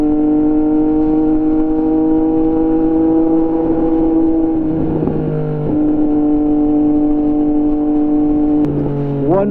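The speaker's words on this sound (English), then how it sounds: "This engine is feeling so good right now." Triumph Street Triple RS motorcycle engine running with a steady, loud harmonic drone, pitch dipping and shifting as it changes speed mid-way and climbing again near the end, no speech over it.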